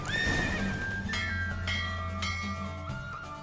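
A horse in The Witcher 3 whinnies loudly and close, a high, wavering neigh that falls in pitch and trails off, with faint hoof clatter and game ambience underneath.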